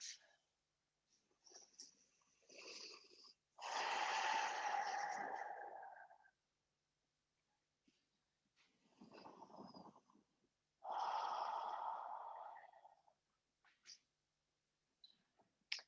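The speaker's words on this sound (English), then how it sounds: "just find the Ujjayi breath that works the best for you." Ujjayi breathing during a gentle yoga flow: slow, deep, hissing breaths through a constricted throat, two long loud exhales separated by quieter inhales and pauses, close to the microphone.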